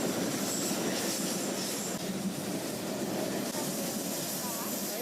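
Fully loaded freight wagons rolling past close by, a dense continuous rumble and clatter of steel wheels with a rushing roar, dust trickling off the heavy loads.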